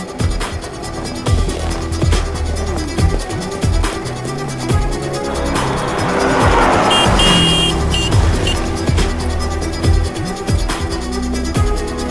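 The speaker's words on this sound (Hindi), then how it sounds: "गाड़ी निकाल" A car engine revs and moves off, tires and motor noise rising and fading, with clunks and rattles along the way.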